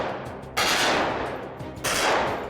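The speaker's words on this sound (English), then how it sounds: "We have constant gunfires." Blank-firing guns roar in bursts during a TV stunt shoot with SWAT officers on a street, giving two dense volleys of rapid shots that arrive loud and close.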